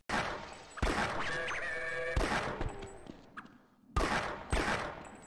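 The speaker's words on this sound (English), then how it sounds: "Listen to the pistol's gunshot and tell me if I'm imagining things." Pistol gunshots in a Half-Life 1 mod: four or five sharp, loud reports, spaced unevenly, each with a short ringing tail, alone with no talk.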